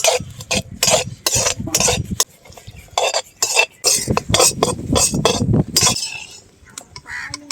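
Carrot halwa with raisins is stirred in a pan, with a quick train of spoon scrapes and metallic clinks in irregular bursts and a soft sizzle underneath.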